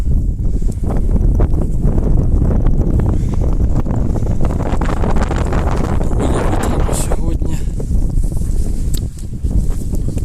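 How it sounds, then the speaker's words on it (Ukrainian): Steady, loud wind buffeting the microphone with low rumbling gusts throughout, a voice faintly talking underneath, outdoors in a garlic field during cultivator weeding. "Цілий день вітер у нас тут є."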